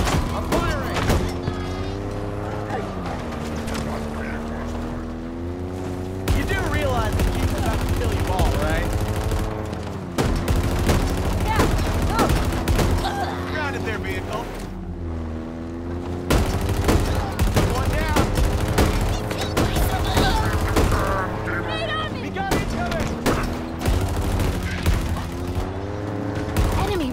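Sustained gunfire from the video game Halo Infinite, with bursts of rapid automatic shots running under a steady, loud bed of game music and effects, with a voice talking over it.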